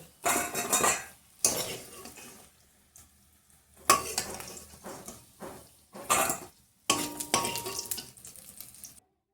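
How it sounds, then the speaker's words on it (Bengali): Fried bora fritters are scooped out of a sizzling pan in several separate bursts of scraping, clinking utensil and oil crackle, with short quiet gaps between each lift. "এই বাকি বড়াগুলো হয়ে গেছে, এখন তুলে নেব"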